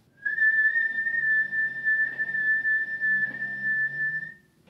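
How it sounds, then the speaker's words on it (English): A single sustained high whistled note held for about four seconds, lightly tongued so that faint articulations break the steady tone, heard close and alone. "try whistling a high note. You're just going to lightly tongue."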